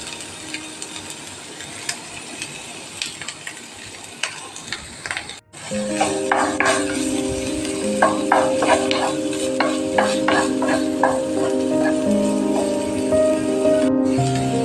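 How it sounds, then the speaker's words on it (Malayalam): Two finely chopped onions hit hot coconut oil in a pan, bursting into a loud, close, steady sizzle that continues unbroken after a quiet moment of faint kitchen clatter. "ചൂടായ എണ്ണയിലേക്ക് ഒരു രണ്ട് സവാള അരിഞ്ഞത് പൊടി പൊടിയായിട്ട് അരിഞ്ഞാണ് അതിട്ട് കൊടുക്കാം"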